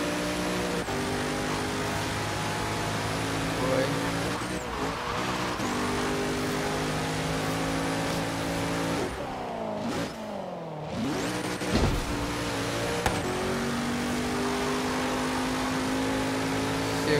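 A Zenvo ST1 supercar engine in Forza Horizon 3's Hot Wheels expansion, loud and continuous, revving up through gears with a brief dip and stumble midway before climbing again.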